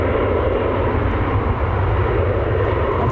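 A United Express airliner bound for Chicago at Cleveland Hopkins airport gives off a loud, steady engine roar that holds constant throughout, close and unbroken.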